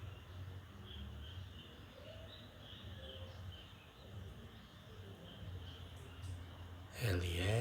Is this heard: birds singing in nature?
yes